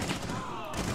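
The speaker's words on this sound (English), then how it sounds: "This shotgun is so fucking good." A shotgun blast in the video game Rainbow Six Siege, a loud burst of gunfire that fills the whole second with dense noise, with a voice faintly mixed in.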